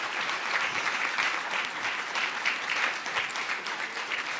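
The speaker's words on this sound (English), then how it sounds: "Let's give them another round of applause" A crowd at a Connecticut Kid Governor inauguration claps for the young cabinet, producing a steady, moderately soft patter of many hands that sounds somewhat distant in a large room, with no speech over it.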